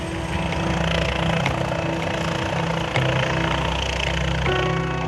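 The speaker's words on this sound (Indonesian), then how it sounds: "dek heli di buritan KRI Banjarmasin disibukkan dengan kedatangan helikopter yang membawa personil dan berbagai kebutuhan" A helicopter lands on the stern helideck of the Indonesian warship KRI Banjarmasin at sea, a loud, steady engine and rotor roar that fills the scene without a break.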